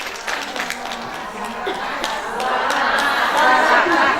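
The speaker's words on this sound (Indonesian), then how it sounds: "Oke, tepuk tangan ya Bu" Applause from a mothers' audience at a Posyandu health post meeting, dense clapping that swells and grows louder toward the end, with chatter and some chuckles mixed in.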